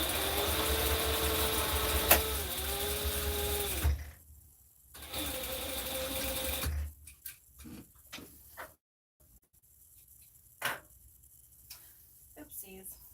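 A sewing machine runs fast in steady loud bursts, stopping and starting, during a live sew-along of a Butterick 4790 pattern, then fades to quieter handling noises and brief clicks.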